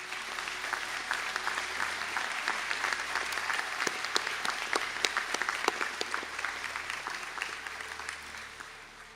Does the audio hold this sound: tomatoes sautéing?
no